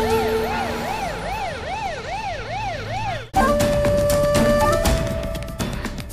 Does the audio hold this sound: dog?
no